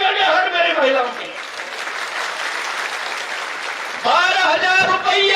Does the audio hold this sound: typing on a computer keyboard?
no